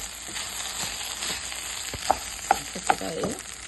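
Rice frying in a pan sizzles steadily while being stirred, with a few sharp scraping clinks of the utensil against the pan standing out near the end.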